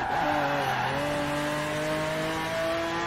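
Lamborghini Aventador SV racing in Forza Horizon 4, a steady engine drone with rising and shifting tones as the car holds speed, loud and continuous throughout.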